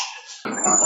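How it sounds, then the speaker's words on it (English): A dog gives a short, sharp bark after a brief whine, close and loud, over in under a second. "Oh, these are the dogs."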